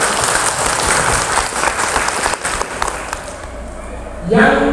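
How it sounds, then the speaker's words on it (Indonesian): An audience at a farewell ceremony for a PAUD school supervisor in Purwodadi claps hands in a loud, dense burst that fades, then a voice starts speaking at the end. "Tepuk tangan."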